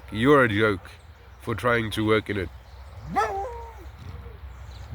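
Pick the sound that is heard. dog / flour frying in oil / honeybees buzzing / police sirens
dog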